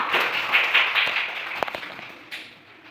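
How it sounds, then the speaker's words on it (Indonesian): A class of young children applauds a classmate in an elementary mathematics lesson, giving a burst of mixed, uneven hand claps that is fairly loud at first and then fades away over a few seconds. "Tepuk tangan untuk anak Eto"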